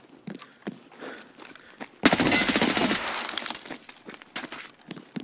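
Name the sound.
gunshots in a shooter video game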